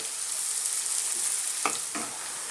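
Garlic and onion sauté in a pan with a bright, steady hiss of frying oil, close up, broken near the end by two quick scraping stirs.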